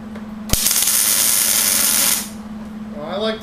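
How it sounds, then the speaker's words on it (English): Tack welding a steel corner: a sharp strike at the arc start, then a steady loud crackling hiss lasting under two seconds before it cuts off, over a constant electrical hum, with a voice just after. "Now I'm going to tack another one on this corner."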